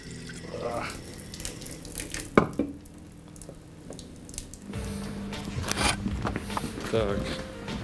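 Hot water runs from a kitchen tap, splashing and gurgling into a sink with a steadier stream in the second half, under intermittent talk and handling noises.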